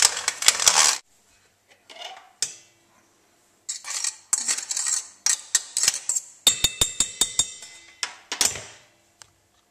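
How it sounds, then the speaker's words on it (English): Hot boiled potatoes are cranked through a metal food mill, giving up-close bursts of metallic clicks, scraping and rattling taps separated by brief silences. "Next, when your potatoes are cooked, you want to put them in a food mill while they're hot."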